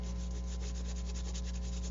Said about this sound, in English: thumbnail, rubbing across.